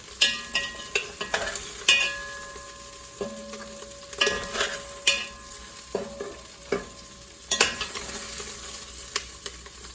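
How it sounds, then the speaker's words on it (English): Sausage oil sizzles steadily in a pan while a spoon stirs and scrapes, with occasional clinks of utensil against metal. "add our onions and start frying those down"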